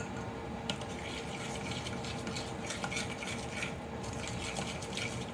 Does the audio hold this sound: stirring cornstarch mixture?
yes